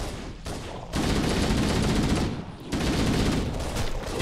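Heavy gunfire fills a Halo CE Anniversary firefight: dense, sustained bursts of automatic fire with two short lulls, loud and close throughout, with no voices.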